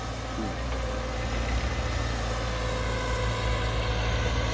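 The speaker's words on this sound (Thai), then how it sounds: "เดินเครื่องเบามากครับนะเบาจริง ๆ ครับนะ" A CAT 313D2 GC excavator with a small engine of about 100 horsepower and a Caterpillar pump idles quietly, giving a steady, even low hum with no revving.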